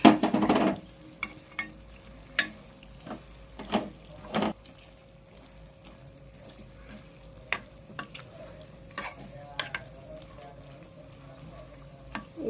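Prawns fry in a pan with curry leaves and turmeric, giving a faint, low sizzle broken by sharp intermittent clinks and scrapes of stirring, close and quiet.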